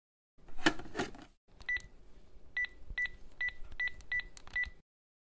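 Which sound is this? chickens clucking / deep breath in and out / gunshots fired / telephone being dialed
telephone being dialed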